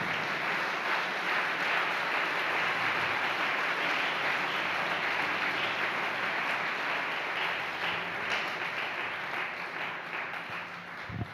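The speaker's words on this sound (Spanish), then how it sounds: "Dele ese aplauso al Señor," A church congregation applauds during a sermon, a steady wash of clapping that holds for several seconds and then tapers slightly toward the end.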